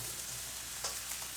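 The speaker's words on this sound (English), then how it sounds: "Add the mince back in now." Beef mince frying in a pan for chilli beef, a brief steady hiss of sizzling with a couple of small spatter pops, close and alone.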